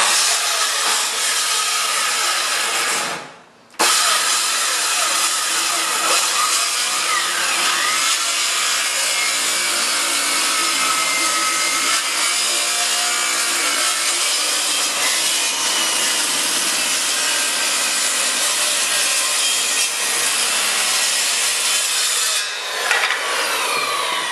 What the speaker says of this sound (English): Always set your saw to the correct depth. Alright, that always helps to make the cut in one pass.